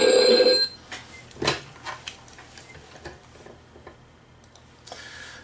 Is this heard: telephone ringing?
yes